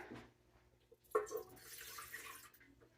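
One cup of water pours into a bread machine pan in a home kitchen, a soft, close splash and trickle that swells briefly and then tapers off under quiet room noise.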